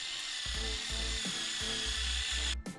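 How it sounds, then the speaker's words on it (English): A wire wheel on a power tool cleans a 2.7T engine block, a close high whine with rhythmic low pulses as the wheel works the metal, ending abruptly. "with the wire wheel, just clean everything up one last time"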